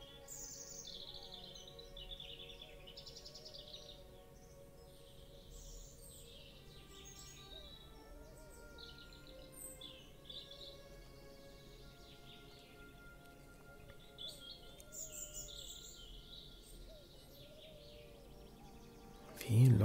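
A pigeon calling in the video game Portal of Evil: Stolen Runes: faint, scattered chirps and tweets repeat over a quiet ambient bed, ending with a brief louder thump.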